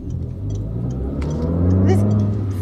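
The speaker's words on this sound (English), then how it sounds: "there's an awful lot of engine noise for what would have been priced as a premium small car" Premium small car with a 16-valve petrol engine droning loudly from inside the cabin as it drives, a steady low rumble that rises slightly through the run, no speech heard.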